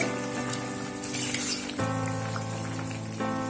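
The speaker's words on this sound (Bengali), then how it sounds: "আবারও ঝোলটাকে ভালোভাবে ফুটতে দেব" Fish curry with potatoes, lentil dumplings and eggplant bubbles steadily in a pot, a continuous close simmering sizzle with a low hum and faint bubbling pops, no voices.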